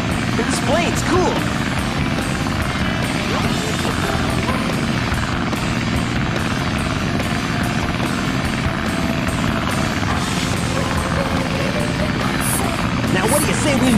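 Tails' plane from the Sonic Adventure video game drones with a steady, loud propeller engine roar that runs unbroken the whole time, with busy wind and game noise layered on top.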